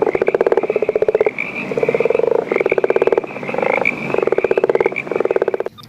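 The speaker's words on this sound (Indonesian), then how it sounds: "Seekor katak." Frog croaking in loud, rapid pulsed trains, several bursts in a row with short gaps between them, close and clear with no talking.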